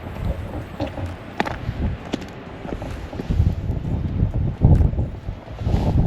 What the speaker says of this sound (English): Welcome to a very windy and rainy Stack Lighthouse.